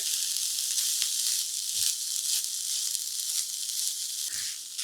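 Two cups of freshly grated coconut for modak filling sauté in ghee over low heat with fried cashews and almonds, giving a steady, close sizzling hiss with a few soft stirring bumps.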